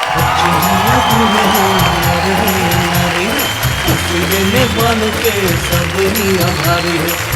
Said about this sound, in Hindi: हम दोनों के लिए तालियां बजाएं